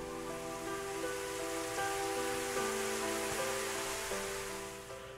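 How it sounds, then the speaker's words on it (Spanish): Rain falling in a visual novel sound effect, a steady wash of dense hiss with layered music tones sustained underneath throughout. "La primera cosa que pude oír fue el sonido de la lluvia cayendo"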